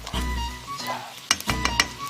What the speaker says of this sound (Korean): 궁중팬에 남은 부추 잡채에 물과 양념을 넣고 볶고 있습니다